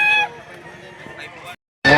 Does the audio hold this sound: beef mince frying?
no